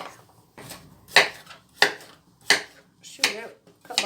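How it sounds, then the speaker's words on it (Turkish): Sharp knife chops slicing an onion on a cutting board, six or so crisp strikes at an uneven pace, close and loud, with quiet pauses between. "soğanımı doğruyorum"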